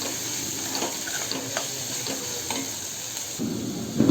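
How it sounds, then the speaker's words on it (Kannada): Cut ridge gourd (hattikayi) pieces fry in a pan for a palya, giving a steady close sizzle with a few soft stirring scrapes and taps throughout. "ಹತ್ತಿಕಾಯಿ, ಇದ್ರ ಹೆಸರು ಹತ್ತಿಕಾಯಿ ಅಂತ, ಇದನ್ನು ಆ್ಯಡ್ ಮಾಡಿ ಫ್ರೈ ಮಾಡೋಣ"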